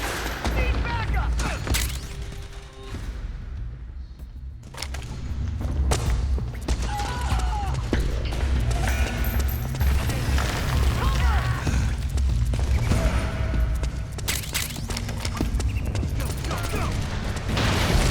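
Gunfire in the Metal Gear Solid 4 video game: sustained rattling volleys and booms of a battle, dense and continuous, with shouted voices mixed in.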